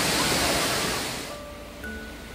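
Water rushing at the Mawsawa and Mawsawdong falls makes a loud, broad hiss that eases to a softer roar within a couple of seconds, with faint thin tones appearing near the end.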